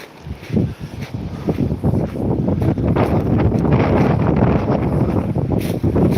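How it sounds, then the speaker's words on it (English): Strong wind buffeting a microphone outdoors on the coast between Hollym and Withernsea, a loud, steady low roar that builds within the first seconds and holds, with no speech. "You've got a bit of a wind"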